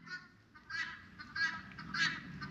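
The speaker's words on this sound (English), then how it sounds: "I think it's a pheasant." Pheasant calling at a Montana ghost town, several harsh honking calls repeated at uneven intervals, fairly close and clear against a quiet background.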